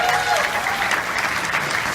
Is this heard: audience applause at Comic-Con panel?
yes